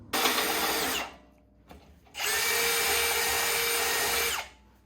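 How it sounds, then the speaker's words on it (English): A power drill bores holes during a snowmobile-engine go-kart build, two close, loud whirring bursts separated by a short pause, the second one longer and steady before winding down. "Got my holes drilled."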